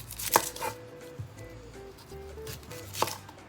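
An onion being chopped with a knife on a board, a few sharp close knocks spaced apart, with a quiet gap between strikes and no talking.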